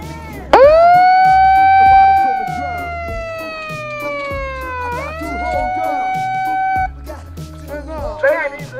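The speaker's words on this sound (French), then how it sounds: "t'as ce petit bouton, là, petit bouton magique qui donne la sirène de ton" An electronic siren triggered by a small button on a vehicle near a campsite at a reggae festival wails loud and close, rising sharply, sweeping down, then cutting off, with music and voices underneath.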